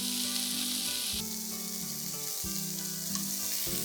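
Pieces of chicken glazed in sugary soy sauce sizzle steadily in a hot pan, a close, continuous frying hiss with faint low clicks and shifts underneath, no voices.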